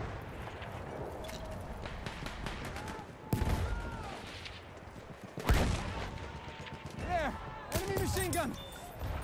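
Bursts of gunfire crack repeatedly in Battlefield 1 Conquest mode, some loud and close, others distant, with whooshing effects and voices talking in between.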